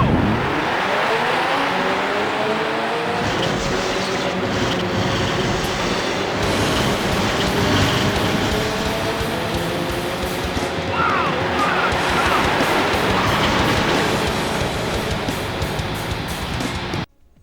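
Loud, continuous roar of racing engines from a PlayStation 1 racing game, rising and falling in pitch like cars speeding around a track, steady throughout and cutting off abruptly at the end.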